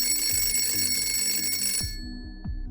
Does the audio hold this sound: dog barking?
no